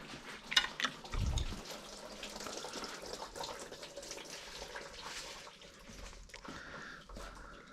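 Coolant is poured into the cooling system of a 2004 BMW M3 E46 during a coolant leak repair, a quiet trickling, gurgling liquid stream with a few faint knocks and handling sounds near the start.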